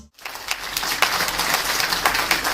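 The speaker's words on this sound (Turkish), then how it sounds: "lütfen alkışlar kesilmesin, devam etsin" Steady applause from a crowd at a literary award ceremony, dense broadband clapping that swells in after a brief silent start and continues evenly throughout.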